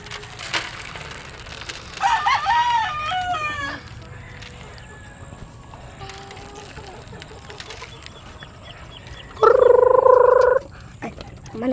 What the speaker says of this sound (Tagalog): Ay, manok pala.